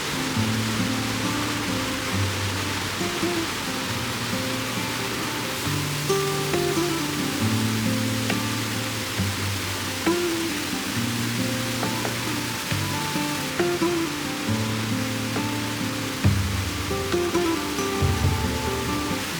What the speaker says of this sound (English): it was definitely really cool to see a waterfall in a canyon like that